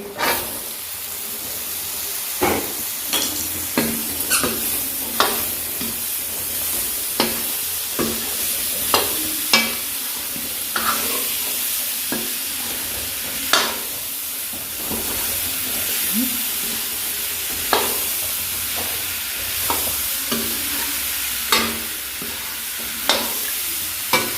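Potatoes tip into a pan of frying salt, chili and spice masala for an aloo gobi sabzi, giving a loud steady sizzle with repeated sharp scraping stirs throughout and no talking.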